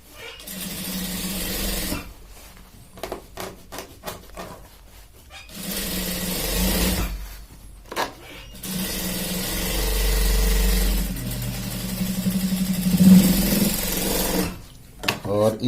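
A sewing machine stitches the seat seam of a pair of trousers in several whirring bursts of a few seconds each, separated by quieter pauses.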